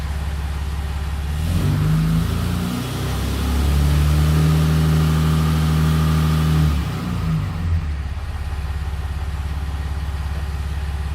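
Ram 6.7 Cummins diesel engine running after a non-VGT turbo install, with a steady loud close drone that climbs into a sustained rev for a few seconds, then settles back to idle.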